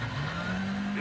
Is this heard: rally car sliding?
yes